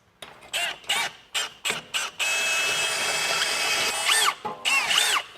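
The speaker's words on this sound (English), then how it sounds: "So what we're going to do is enlarge this hole one size." Power drill enlarging a hole one size during a 1.5-inch lift kit install on a 2022-25 Honda Civic, starting with several short bursts and then a sustained high whine that shifts pitch, ending in a few more quick pulses.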